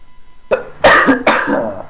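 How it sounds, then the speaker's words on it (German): A short burst of two or three harsh coughs, close and fairly loud, from a young German gamer, with a brief throat-clearing quality between them and no talk. "Nee, ich hasse meinen Husten."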